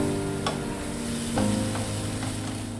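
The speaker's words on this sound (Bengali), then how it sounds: "এবার দিলাম কেটে রাখা বেগুনটাকেও দিয়ে আবার একটু নুন দিয়ে নেব, তারপর এটাকেও আবার লাল লাল করে ভেজে নেব।" Cut eggplant, salted, fries in hot oil in a pan, giving a steady close sizzle with a few clicks of a spatula stirring against the pan.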